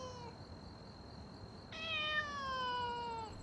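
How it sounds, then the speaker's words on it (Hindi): A cat meows indoors, a short high call followed by a longer, louder drawn-out meow with rich harmonics, heard alone against a quiet room. "अंदर बिल्ली की आवाज सुनी।"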